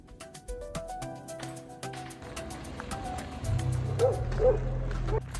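Dogs bark outdoors on a street in Kingston after Hurricane Melissa, a few quick barks at moderate distance, followed by a steadier rumbling background that grows louder.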